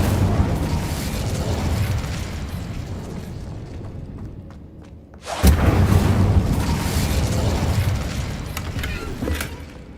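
A fire spell cast in the Hogwarts Legacy video game bursts in suddenly as a loud whooshing blast midway, then a roaring rush carries on over a busy background of game effects and mechanical clatter.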